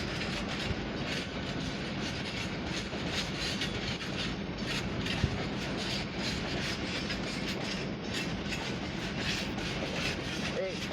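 An East Midlands Railway Class 158 diesel unit rolls into Nottingham station with steady, rhythmic wheel clatter over the rail joints and a constant mechanical rumble, fairly close and continuous throughout.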